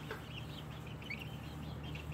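Hens and a young rooster cluck softly and faintly in a yard, with scattered short calls over a low, steady background hum.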